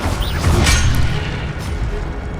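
A Levioso spell cast during a Hogwarts Legacy fight, a short booming whoosh with a magical shimmer, loud and close, heard alone.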